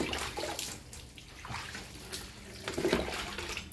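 Water runs and splashes steadily for a bath, a close, continuous gush with small uneven surges and no talking.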